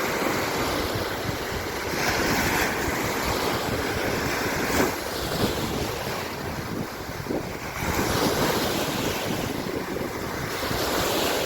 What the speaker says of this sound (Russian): Послушайте плеск волны Средиземноморского моря